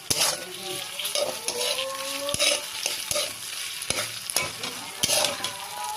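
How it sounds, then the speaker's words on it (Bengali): Spices with tomato and green chilli sizzle in a pan while being stirred, a steady frying hiss punctuated by repeated scraping and clinking of a spoon against the pan, with brief talk in the background. "দেখো এখন সব মশলাগুলো ভালো মতন ভাজা ভাজা হয়ে গেছে।"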